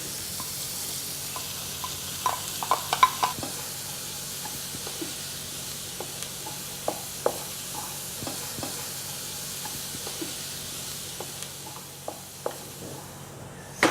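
Chopped carrots, onions and celery frying in a pan while being stirred, a soft steady sizzle with scattered clicks and scrapes of the utensil throughout, fairly quiet and close, no talking.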